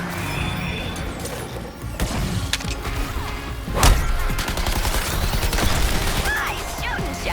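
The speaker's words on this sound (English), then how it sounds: "Nice shooting, Sharky." Gunfire and impacts in the video game Suicide Squad: Kill the Justice League: a dense battle mix of rapid shots, crashes and one heavy boom near the middle, continuing under game voices.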